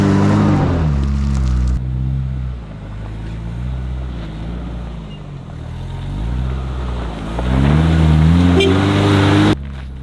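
Old camper van heading downhill, a loud, close engine drone with rising and falling revs and wind rush, continuous throughout with no talking.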